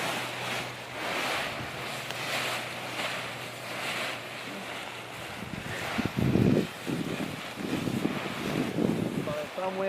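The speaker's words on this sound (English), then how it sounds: "Some wind." Wind gusting across a powered paraglider launch site, a steady rushing buffet of air noise on the microphone, with a brief fluttering burst partway through and some faint talking.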